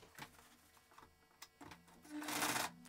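A sewing machine runs a short burst of stitching on a pants seam, pauses, then stitches again in a quick reverse back-tack, faint and close with no talking.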